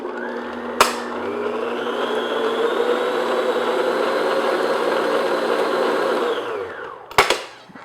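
Electric mixer blending cooled chocolate mixture into chocolate almond torte batter: a click, then a steady loud whirring drone for about six seconds that winds down and ends with a rattle and clatter.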